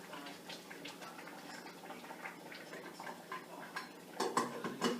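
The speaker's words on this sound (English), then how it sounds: "I'm stirring it with a spoon" A spoon stirs rice in a cooking pot, giving soft scraping and light clinking taps in a steady loose rhythm, close and fairly quiet, with a few sharper knocks near the end.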